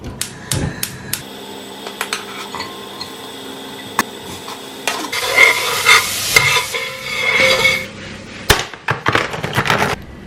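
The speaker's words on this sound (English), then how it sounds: "I've finely chopped some celery and pepper, and I'm going to fry that in the oil here" Finely chopped celery and pepper fry in oil in a home kitchen, with scattered utensil knocks and clicks at first, then a louder crackling sizzle as the pan is stirred, ending with a few sharp taps.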